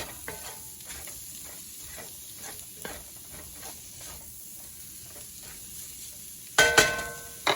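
Food being stirred in a skillet after Rotel tomatoes and black beans go in, a soft steady sizzle with repeated scraping stir strokes, ending in a few louder clatters near the close.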